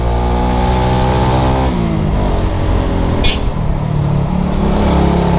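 A Suzuki Satria FU motorcycle engine revs hard while climbing a steep road on the Puncak route toward Citeko. The loud, steady whine is held high, then shifts pitch after a gear change and keeps pulling.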